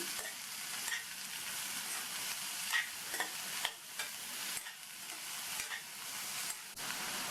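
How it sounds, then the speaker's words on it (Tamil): Chopped snake gourd and onion sauté in hot oil in a pan, giving a steady close sizzle broken by repeated scraping stirs and clinks of the spoon, with no voices. "அடுத்து கட் பண்ண 1/4 கிலோ புடலங்காயை சேர்த்துட்டு எண்ணெயிலேயே 1 நிமிஷம் போல் வதக்கி விட்டுக்கணும்."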